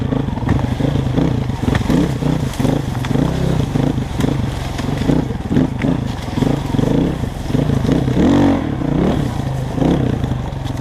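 Dirt bikes ride through woods with a loud, continuous engine drone and revving, close up, accompanied by clatter and scraping over rough ground.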